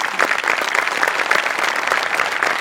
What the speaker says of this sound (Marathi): सेटिंगवाल्यांसाठी सुद्धा एकदा टाळ्या व्हायला पाहिजे